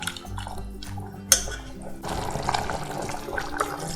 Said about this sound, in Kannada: ಇನ್ನೊಂದು ಅರ್ಧ ಲೋಟದಷ್ಟು ನಾನು ನೀರು ಹಾಕ್ಕೊಳ್ತೀನಿ